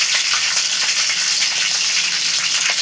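Cumin, fenugreek and green chili spluttering in hot oil, a loud, close, continuous crackling sizzle with tiny rapid pops throughout and no voices.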